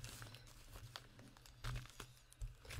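Crinkling and tearing of cellophane wrapping as a fresh pack of 20 white cards and 20 white envelopes is opened, close up, with a few louder crunches and rustles and no talking.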